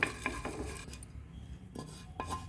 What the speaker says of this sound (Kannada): ಎಲ್ಲ ಸಿಮ್ಮಲ್ಲೇ ನೀಟಾಗಿ ಹುರ್ಕೋಬೇಕು.